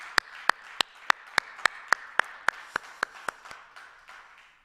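A round of regular, evenly spaced claps at a church worship service, about a dozen sharp hand claps in steady rhythm, fading slightly toward the end, with no voices.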